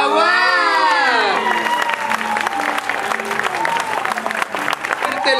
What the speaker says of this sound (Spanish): El aplauso para Jaguar